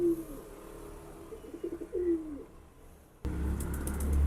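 Pigeons released from a home loft coo in soft low rolling calls close by, followed by a louder rush of wind-like noise as the birds take off; no talk.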